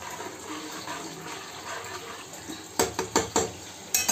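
Water is poured into a pot of kadhi with potatoes in a home kitchen. A soft, steady trickle gives way to several sharp clinks of a utensil against the pot near the end.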